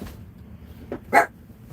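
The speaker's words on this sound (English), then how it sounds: "What are you barking at?" A single dog gives a short, sharp bark, preceded by a softer grunt, against a quiet indoor background.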